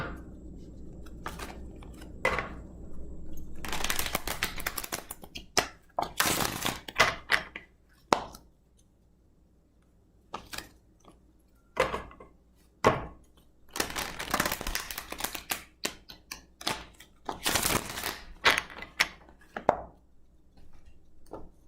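Tarot cards being shuffled during a new moon reading, heard as bursts of crisp riffling and slapping cards separated by quiet gaps, close and fairly loud with no talk.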